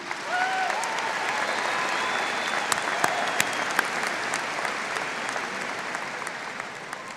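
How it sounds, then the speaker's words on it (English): Sustained audience applause fills the hall at the Rocky Mountain High School 2024 graduation ceremony, a dense, even patter of many hands with a few louder individual claps and faint whistles standing out. "Let's give these Lobos another round of applause"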